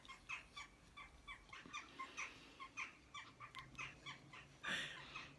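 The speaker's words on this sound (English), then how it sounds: "there's some really noisy birds flying overhead" Noisy birds calling overhead outdoors, a string of sharp, repeated squawks and chirps at an uneven rhythm, faint and somewhat distant, with one louder, harsher cry near the end.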